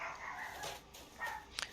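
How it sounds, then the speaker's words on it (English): Dogs bark faintly in the background of a quiet indoor room, with a few distant, soft barks and no speech. "Sorry for the dogs, guys."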